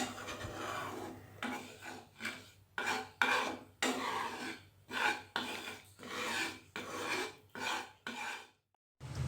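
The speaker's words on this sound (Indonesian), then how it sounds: "Pertama-tama kita sangrai dulu 3 sendok makan tepung beras." Repeated scraping and rasping of a utensil against a dry pan while dry-roasting rice flour, in steady strokes about once a second, close and fairly loud, no talking.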